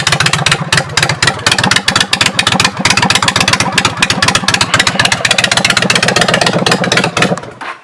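Honda Shadow 750 motorcycle with chopped exhaust pipes idling up close, running slightly rich, with a loud, steady, rapid lumpy thump that continues throughout and then cuts off at the end, with no talking.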